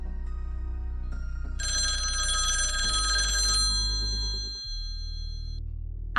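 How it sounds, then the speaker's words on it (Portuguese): A telephone bell rings steadily for several seconds as a call goes through, loud and close over a low background hum, with no voices. "ciente de que Laura havia recebido seu presente, ele fez a ligação."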